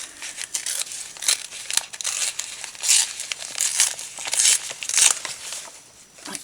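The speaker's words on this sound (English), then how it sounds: "I tear it here." Paper being torn by hand for a junk journal page, a run of close, crinkly rips and crackles in several bursts with brief pauses between them, no talking.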